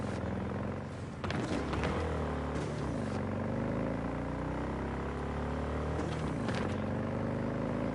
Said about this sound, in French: Oh la moto indestructible.